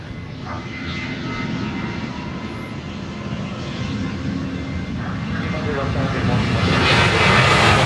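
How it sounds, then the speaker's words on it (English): A Boeing 737-700 jet airliner roars steadily at Dallas Love Field, its broad engine rumble building slowly louder as it draws nearer, heard outdoors without talk. "We have next Flight 1437 headed to Austin, Texas,"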